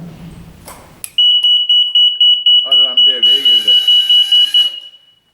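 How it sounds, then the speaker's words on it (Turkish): A PLC conveyor timeout alarm on a Siemens S7-1200/S7-1500 setup sounds as a loud, steady high-pitched electronic beeping in a fast regular pulse for about four seconds, with a brief click and faint voice just before it. "Alarm devreye girdi."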